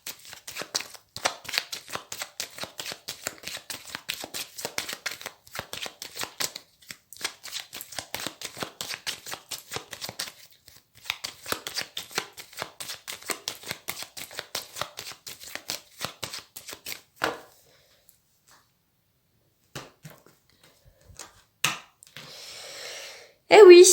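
Tarot cards are shuffled and cut by hand in rapid, close riffling bursts for most of the stretch, then the shuffling stops, leaving near silence and a short sound at the end.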